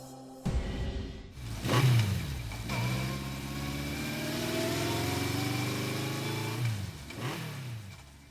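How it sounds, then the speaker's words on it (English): A motorcycle engine in the video game Steins;Gate 0 fires up and revs, then pulls away with a sustained rising drone that fades as it leaves, heard alone without voices. "She took off on her motorcycle."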